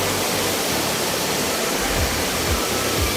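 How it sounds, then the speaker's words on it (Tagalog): A waterfall and river rush as a loud, steady broadband roar of falling water close by, unbroken for the whole stretch with a few low thumps near the end. "Napakaganda po ng falls."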